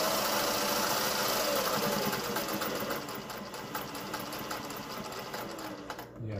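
A Singer 401A sewing machine stitches at a steady speed, its motor humming with a rapid needle chatter close by, easing slightly partway through before stopping at the end.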